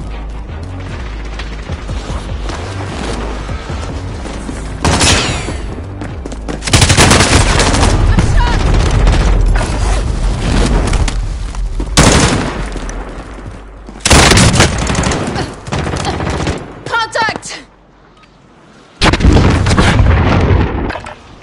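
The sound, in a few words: hostile gunfire and explosions in a video game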